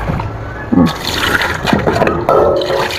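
Sticky rice bought from Malaysia being rinsed in water before cooking: close sloshing and pouring bursts, with splashes and trickling water.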